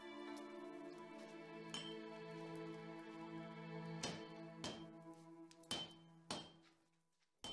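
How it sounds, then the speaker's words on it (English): Metal hammer blows on heated steel while forging a katana ring out in a slow, uneven series, several sharp clanging strikes with a lingering metallic hum between them. "The hammering also drives out most of the remaining impurities called slag."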